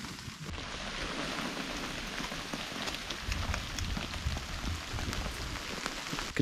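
Rain tapping on a hot tent in Vermont autumn woods, a steady close patter of many small drops with no one speaking.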